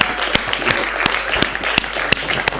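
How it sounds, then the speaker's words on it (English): Audience at a South African guitar workshop gives a round of applause, a steady wash of many hands with a few sharp, louder claps cutting through at intervals, sustained for the whole stretch with no talking. "give a big round of applause to this"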